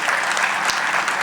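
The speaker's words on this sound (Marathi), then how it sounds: "टाळ्या वाजवून भरपूर दाद द्या." Audience applause at a state-level teachers' service honour award ceremony in Shirdi, a dense steady wash of clapping from a large crowd, loud and sustained throughout.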